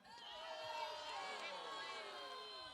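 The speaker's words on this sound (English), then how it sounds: "One more rousing cheer." A crowd at a reenactment at ‘Iolani Palace lets out one more rousing cheer: a dense chorus of raised voices, sustained and fairly even throughout the few seconds.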